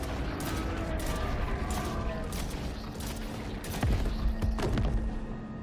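Gunshots in the horror game Stray Souls, set in a graveyard: sharp repeated cracks and thuds over a steady droning background, getting louder toward the end, with some faint voice underneath.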